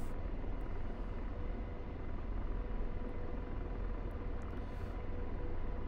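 Apache attack helicopter in the DCS 2.9 flight simulator, a dense, steady rotor and engine roar that fills the whole stretch evenly, loud and close with no voices.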